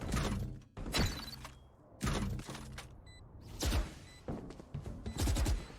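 Gunshots in the competitive shooter Valorant during a professional grand final match: several sharp, loud shots spaced apart in clusters with brief quieter gaps and some mechanical clicks between them, no speech.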